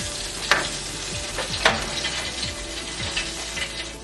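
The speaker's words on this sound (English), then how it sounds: "hear that sizzling going on?" Oven-baked red snapper sizzles loudly and steadily up close in its hot pan, a continuous crackling fry broken by a few sharper scrapes and stirs.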